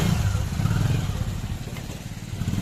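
A motorcycle engine rumbles steadily close by, a low throaty drone with some clatter, holding fairly loud throughout.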